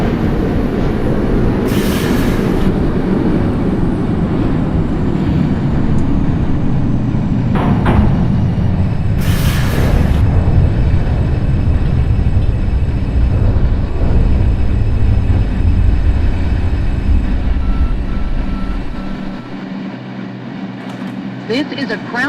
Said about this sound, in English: This is a Crown Heights bound 4 train.